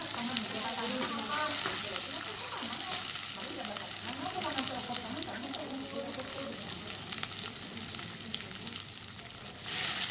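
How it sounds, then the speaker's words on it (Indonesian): Spices sauté in hot oil with bay leaves, lime leaves and lemongrass. A dense, continuous sizzle with occasional stirring runs throughout, and a voice speaks over it. "Ya, kita tumis sampai harum."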